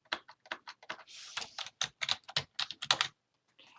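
Quick bursts of keystrokes on a computer keyboard, crisp clicks in an irregular run with short pauses, close and fairly quiet, ending in a brief gap and a last soft tap.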